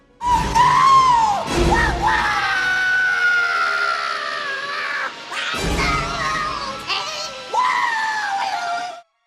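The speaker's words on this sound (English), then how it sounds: "screaming in agony as he slowly goes down in the green goo" A cartoon Disney villain melting into green goo screams in agony: long, loud, wavering shrieks in two drawn-out bursts with a short gasp between, alone and close.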